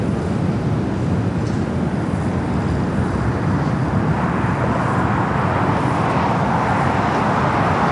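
A Boeing 777 taxiing at Los Angeles International Airport, heard as a steady, broad jet engine roar that fills the whole stretch, slowly building slightly toward the end with no pauses.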